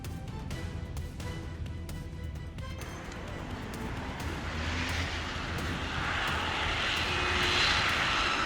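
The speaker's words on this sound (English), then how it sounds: "The aircraft suddenly emerged through the low cloud layer right before the Gatwick runway" An airplane landing at Gatwick after emerging from low cloud, its engine roar building steadily louder and closer over several seconds, with a few sharp clicks near the start.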